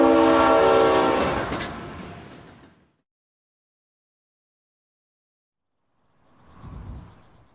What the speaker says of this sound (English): the resounding symphony of steel wheels atop rails